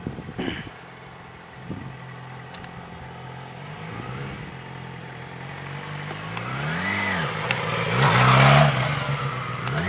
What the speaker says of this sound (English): Just find that point where the clutch slowly starts grabbing the bike and pulling it forward